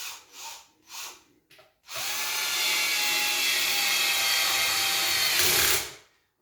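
A cordless power drill drives screws into cabinet carcass panels during flat-pack assembly: a few short bursts, then one long, steady, loud whir lasting several seconds that stops abruptly.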